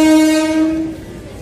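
A local train at a station sounds a loud, sustained horn tone that fades out within about a second, leaving quieter rumble.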